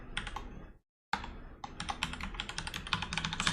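Someone types a password on a computer keyboard, a close, quick run of crisp key clicks that stops for a moment, then resumes in a faster, denser burst.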